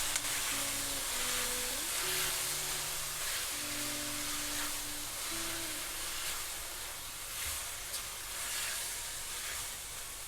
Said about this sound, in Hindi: अब जैसे ही हमारा थोड़ा सा अदरक लहसुन भुन गया, अब इसमें हम टमाटर डाल दें